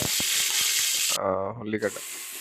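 Onions frying in hot oil for biryani, a loud steady sizzle that stops briefly while a voice speaks, then the hiss resumes.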